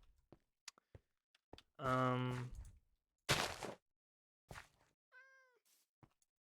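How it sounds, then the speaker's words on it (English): Cat meowing in Minecraft, a couple of clear, sharp meows and a short mew amid scattered clicks and near-silence, close by and fairly quiet. "Is there a cat stuck in this?"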